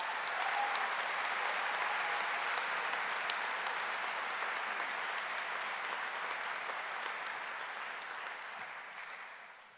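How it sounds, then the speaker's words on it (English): A crowd claps steadily at a university welcome event, dense even applause holding for about ten seconds before slowly tapering off. "So let's give them a round of applause."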